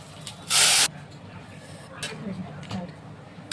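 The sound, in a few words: boiled lentils (dal) poured into hot pan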